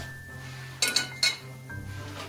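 A metal lid clinks shut on a cooking pot of garlic-topped chicken roll with potatoes: two or three quick, close metallic clinks and rattles, then quiet kitchen hum.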